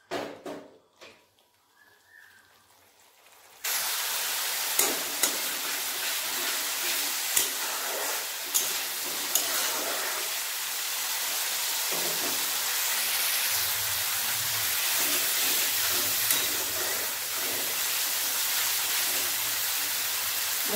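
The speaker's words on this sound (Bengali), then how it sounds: "মশলাটা ভালোভাবে কষিয়ে নেব।" Masala for a fried egg curry sizzles steadily in hot oil in a pan, a loud continuous hiss starting after a quiet opening, with occasional soft clicks and stirring scrapes.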